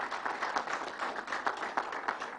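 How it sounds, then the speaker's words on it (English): An audience at a government announcement event at Belmont Park applauds in a sustained, dense burst of clapping that holds at an even level throughout, with no speech over it. "let's give them a round of applause."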